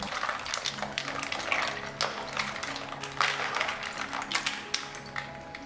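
Chilled flattened beef meatballs are drained out of ice water, giving a busy run of splashing, trickling water and light clinks that lasts only a few seconds, close to the listener, with no one talking.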